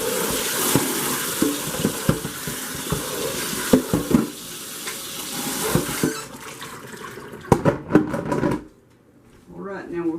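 Poke salad greens frying in a pan give a steady, broad sizzle with scattered clicks and pops, which drops away near the end, while a person talks over it.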